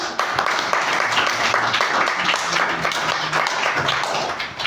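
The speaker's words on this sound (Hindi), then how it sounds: "चलिए अपने परिवार के लिए जोरदार ताली।" An audience claps steadily for their families at a spiritual talk, a dense, continuous patter of many hands with faint voices murmuring underneath throughout.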